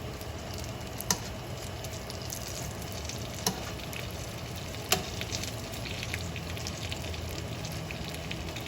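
Eggplant frying in a pan for eggplant parmigiana, a continuous close crackling sizzle with a few sharp pops and clicks scattered through it.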